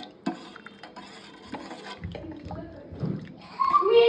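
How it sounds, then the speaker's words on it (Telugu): Sambar and rice are stirred together in a pot, giving a few scraping clinks and soft wet sloshing with short pauses between strokes, close and moderately quiet. "అవన్నీ ఒకసారి కలుపుకోవాలి."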